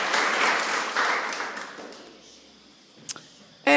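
Clapping from an audience at a primary school end-of-year presentation assembly, a steady round that fades out over a couple of seconds, followed by a few faint taps and a brief close thump.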